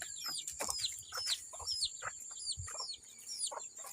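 A flock of chickens clucking and chirping close by, many quick repeated calls overlapping in a busy, continuous chatter with no talking.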